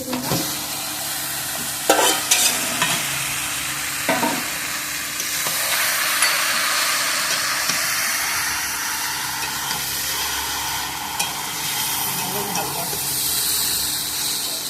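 Chicken stirred and sautéed in mustard oil with turmeric, cumin and salt in a home kitchen: a steady, close sizzle and hiss with a few sharp scrapes and clatters of the spoon against the pan throughout.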